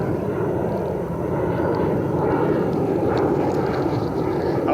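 Airplane flying overhead outdoors, a continuous low rumbling drone that stays steady and fairly loud for the whole stretch, with no one speaking.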